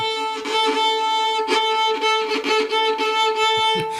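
A single sustained bowed note on a string instrument during a son filé warm-up wavers and breaks repeatedly, with scratchy bursts and uneven pressure giving a jagged, stuttering tone.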